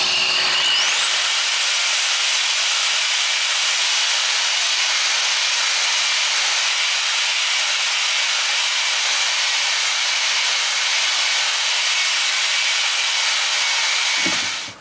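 A power tool with an abrasive attachment runs continuously on a test piece of fireplace or chimney masonry, a loud, even high-pitched whine and grinding hiss that spins up at the start and winds down at the end.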